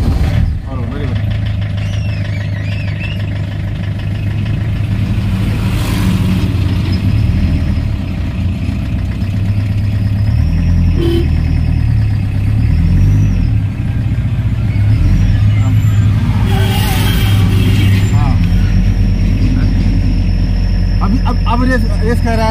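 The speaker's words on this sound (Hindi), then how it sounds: "बिना जरूरत का तुम रेस लोगे ना तब रेस आवाज करेगा।" A stationary car's engine idles and revs, a steady mid-pitched rumble swelling and easing under someone talking continuously throughout.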